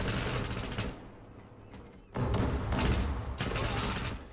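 Gunfire in the Zula online shooter game comes in loud bursts of rapid shots, a dense volley, a brief lull, then more sustained firing close up.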